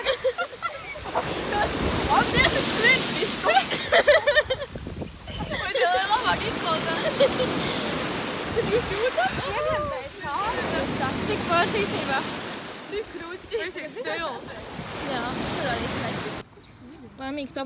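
Sea surf washing onto a beach, a steady broadband wash of waves with gusts of wind buffeting the microphone, near and fairly loud throughout with voices faintly underneath.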